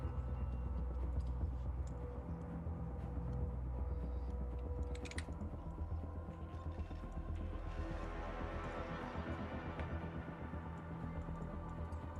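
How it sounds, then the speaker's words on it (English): Typing on a computer keyboard during an online tabletop game session, faint rapid key clicks running continuously beneath a steady background hum. "I'm typing zeros on chat."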